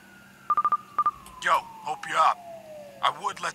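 A phone call is dialed in the video game Drug Dealer Simulator: a quick run of short keypad beeps, then a falling tone under speech as the call connects.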